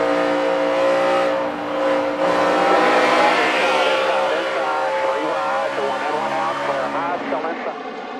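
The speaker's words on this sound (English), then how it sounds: "Let's ride with Denny Hamlin there in the white car" A white NASCAR stock car's engine roars from an onboard view during the 2011 Southern 500, a loud sustained drone with shifting pitch as it revs, heard under steady commentator talk.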